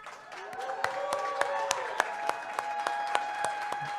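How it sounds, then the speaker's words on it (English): A conference audience at a food-future event applauds in a moderate, steady round of clapping, with sharp individual claps standing out over the crowd and a tonal hum running underneath. "A nice, warm, and maybe loud and ruckus round of applause for RNA and Little"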